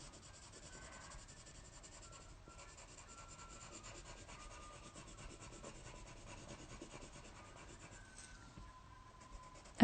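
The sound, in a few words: coloured pencil strokes on paper while colouring in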